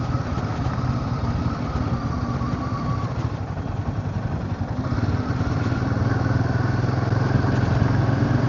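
A Kawasaki Z900 motorcycle's engine runs continuously while being ridden, a steady, fairly loud drone that swells slightly toward the end, with no talking.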